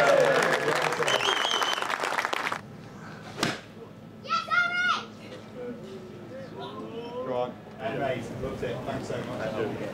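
A crowd applauds at The Open golf championship in a brief burst of clapping that stops abruptly, followed by scattered voices and chatter nearby.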